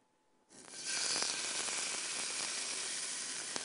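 A spoon roast sears in a hot cast iron pan, the sizzle bursting in suddenly after a quiet moment and holding steady as a bright, continuous hiss with small pops.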